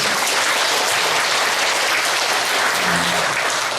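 A church congregation applauds together at a revival meeting, a dense, steady wash of clapping that fills the whole stretch evenly without pause.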